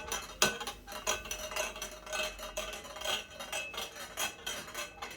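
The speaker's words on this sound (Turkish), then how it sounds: "Evet karıştırmaya devam edelim." Crepe batter is whisked in a bowl, giving rapid rhythmic clinks and scrapes of a utensil against the bowl, moderately close and steady over a few seconds.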